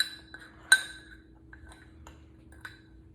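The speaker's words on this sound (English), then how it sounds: "Conrad, why don't you go ahead and give those dry ingredients a mix?" A spoon mixes dry ingredients, mostly sugar, in a big grocery-store soup mug, giving light clinks and taps against the ceramic, one sharp knock near the start and a few fainter scrapes after, close and quiet with no talking.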